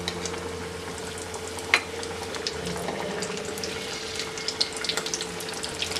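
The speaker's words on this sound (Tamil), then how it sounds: "ஹீட் ஆனோடனே சிக்கன் நம்ம வச்சுருக்கோம்ல அதை போட்டு ஃப்ரை பண்ணி எடுக்க போகிறோம்" Chicken pieces deep frying in hot oil for crispy fried chicken, giving a steady soft sizzle and bubbling throughout with a few faint pops and one sharper clink near the start.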